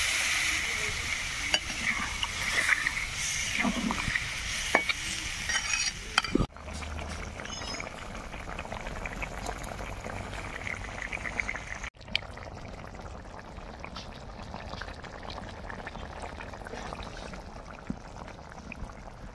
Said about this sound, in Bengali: এবার দেবো হালকা একটু জল